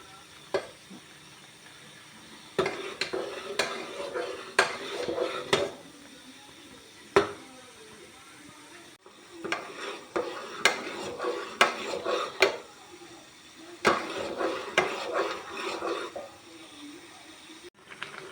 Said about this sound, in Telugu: దీన్ని మనం కలుపుతూ ఉండాలి, లేకుంటే పొంగు మొత్తం కింద పడిపోతుంది